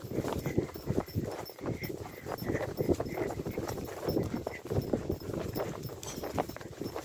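Horses' hooves clip-clop steadily on a path outdoors during a walk, a dense rhythmic patter of hoof falls at moderate distance with no talk over it.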